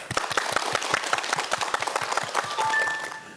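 An audience claps for a psychology lecture, with a dense burst of hand claps close up that carries on steadily and then thins toward the end. No one speaks.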